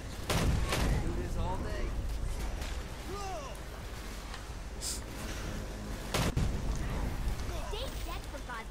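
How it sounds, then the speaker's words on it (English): Gunfire rattles through the video game Saints Row: Gat Out of Hell, sharp shots and bursts over busy game sounds, with two loud blasts standing out. "But someone keeps shooting me."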